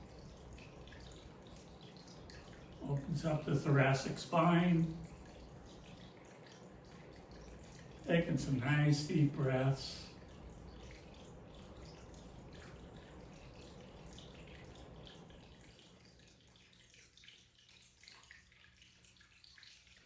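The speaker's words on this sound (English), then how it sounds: "You can hear the fountain in the background." An outdoor water fountain runs steadily in the background on a chilly winter day, a soft continuous splashing wash beneath two stretches of calm spoken instruction, then thinning out and quieter near the end.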